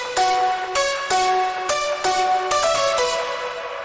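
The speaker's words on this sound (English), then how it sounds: "It's just a mixture of a synth lead and a piano lead." Melodic bass house counter lead blending a synth lead with a piano lead, playing a rhythmic series of bright, harmonically rich notes in short repeated phrases, loud and alone with no voice.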